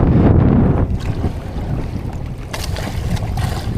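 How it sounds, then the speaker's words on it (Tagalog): Strong gusts of wind at sea buffet the microphone with a loud, low roar that eases after the first second and swells again, steady and close. "Ayan na, ang hangin."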